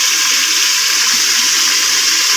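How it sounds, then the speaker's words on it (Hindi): Water poured into a hot pan of frying onions and ginger garlic paste, a loud continuous hiss and splashing rush that holds steady the whole time with no talk. "साथ थोड़ा सा पानी लगा दूंगी ताकि हमारा प्याज और पेस्ट जले ना"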